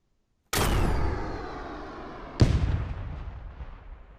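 Two loud, booming rocket launches fire in the video game Drive Beyond Horizon from an RPG launcher, the first after a brief silence and the second about two seconds later, each decaying into a long rumbling tail.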